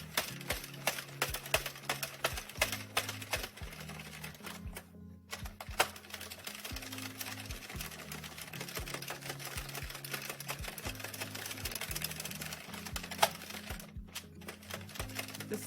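A hand-cranked circular knitting machine knits a baby beanie in light number 3 weight yarn, producing a steady, close clatter of rapid mechanical clicks in repeating bursts, with two brief pauses and no talking.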